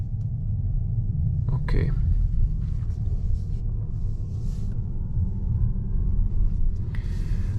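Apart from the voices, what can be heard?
hybrid car pedestrian warning sound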